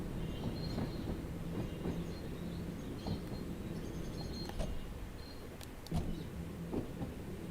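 A simulated Isle of Wight train runs on rails in Train Sim World 2, a steady rolling rumble with faint rhythmic clicks of wheels over rail joints and occasional metallic ticks, fairly quiet throughout.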